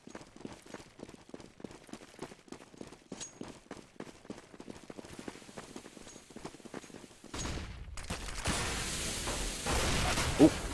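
Rapid gunfire in Counter-Strike, a long run of sharp, evenly spaced shots and footsteps, followed by a denser, louder wash of sound near the end.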